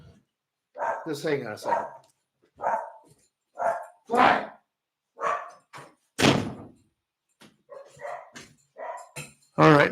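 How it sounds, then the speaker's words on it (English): Several dogs bark in loud, close bursts with gaps of silence between them, along with a few yips and thuds. Someone speaks briefly. "Oh, these dogs."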